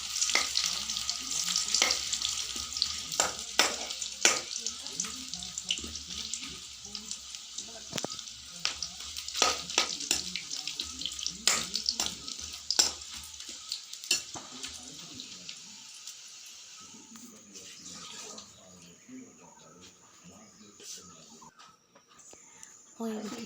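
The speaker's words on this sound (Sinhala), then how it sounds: "ඔය විදිහට මිරිස් කුඩු ලුණු කුඩු දාලා හොඳට කවලම් කරගන්න ඕනේ" Food with chili powder and salt powder sizzles in a pan while being stirred, giving steady frying hiss with repeated scraping clinks of the utensil; a voice talks over parts of it.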